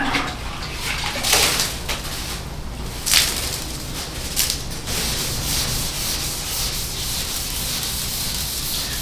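Wet sanding of primer on a car deck lid, repeated rubbing strokes with watery scrubbing texture, some strokes louder and sharper, continuing steadily with no talking.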